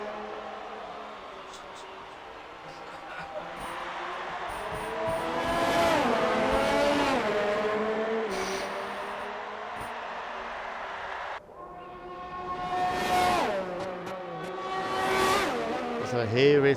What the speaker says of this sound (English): So here is the Haas coming into the final chicane.